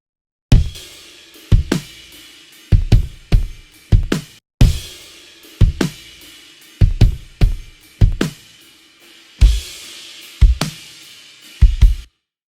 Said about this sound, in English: So let's listen to the drums for a sec.